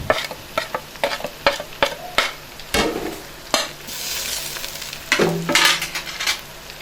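Salt, garam masala and dried coriander fry in a pan, with a steady close sizzle broken by a string of sharp spoon scrapes and clinks against the metal, plus a brief louder hiss burst near the end.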